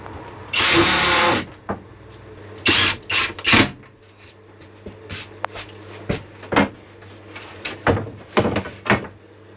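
A power drill countersinks and drives screws into wooden bed slats inside a Fiat Ducato camper van conversion, with one long whirring burst followed by several shorter drill bursts and knocks, close and fairly loud.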